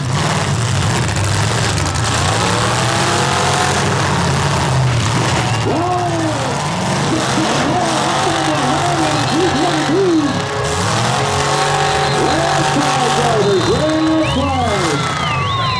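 Loud, continuous roar of full-size stock cars revving and driving at a demolition derby in Huntsville, Ontario, with crowd noise and an announcer talking over a constant mechanical drone.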